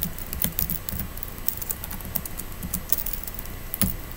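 Rapid, irregular keystrokes on a computer keyboard as code is entered, light clicks and taps close to the microphone with a few louder keypresses, no talking.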